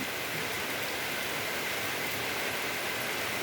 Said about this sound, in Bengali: সেই কবিতার শ্লোকের মতো বৃষ্টি পড়ছে